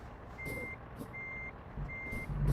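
Three evenly spaced reversing beeps ring out from a truck backing up in American Truck Simulator, each a clear, steady tone over a low engine rumble.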